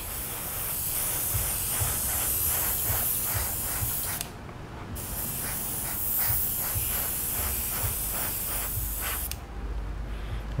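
Airbrush spraying a coat of colour shift paint, a loud, close, continuous hiss in two long bursts broken by a brief pause before the second spray.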